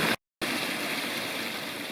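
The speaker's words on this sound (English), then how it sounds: "amazing waterfalls everywhere here" Water rushes steadily over cascading falls in the Lost Cove wilderness, a continuous broadband roar heard close by after a brief dropout at the start.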